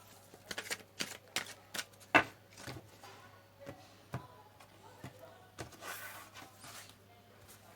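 Tarot cards are shuffled and tapped close by, making a run of quick papery slaps and riffles, with a person speaking softly over them.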